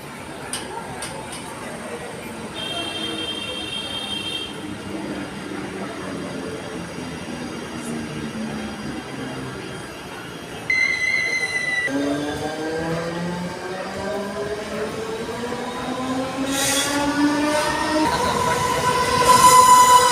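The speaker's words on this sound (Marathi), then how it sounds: "बघा त्या साईडची ट्रेन येते पनवेल" A Panvel-bound suburban train pulls into a station, its steady rolling rumble joined by squealing wheels and a rising whine as it draws near and grows louder, while people talk nearby.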